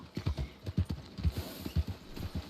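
A fully trained mare walks along in the RedM game, her hooves clip-clopping in a steady, close rhythm of about ten distinct footfalls with no talking over them.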